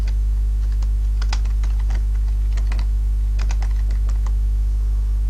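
Close computer-keyboard typing while personal details are entered in the Gadu-Gadu messenger settings: quick clusters of light key clicks with short pauses, over a constant low electrical hum.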